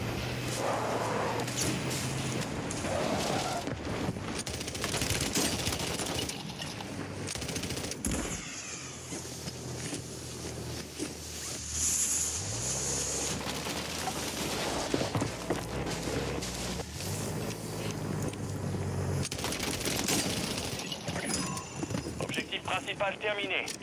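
A 100-round machine gun in Warzone rattles off in long rapid bursts among other game sounds, and someone talks over much of the gunfire.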